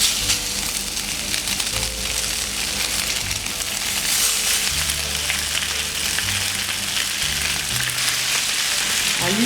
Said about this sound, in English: I'll be pouring in some of the vegetable oil to start pan frying